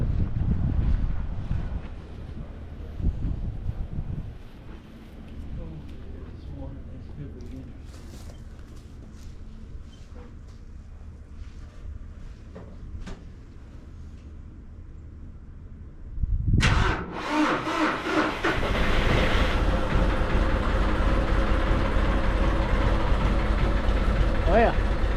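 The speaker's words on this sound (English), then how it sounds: "I'm going to start this tractor up because we got to feed them too." A farm tractor cranks and catches, then settles into a loud, steady idle after a quiet stretch of wind buffeting the microphone outdoors.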